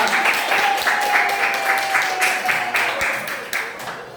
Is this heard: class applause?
yes